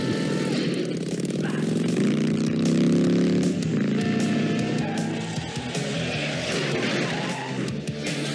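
A motorcycle engine in a 1989 movie roars continuously and loudly with a revving, droning tone, joined by squealing tire skids, all close and unbroken.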